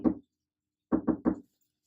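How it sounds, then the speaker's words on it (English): Knuckles rap on a closed bedroom door in a secret knock: a single knock, a short pause, then three quick knocks in a tight burst, close and clear in a quiet room. "3 quick knocks, a pause, and then 3 more quick knocks."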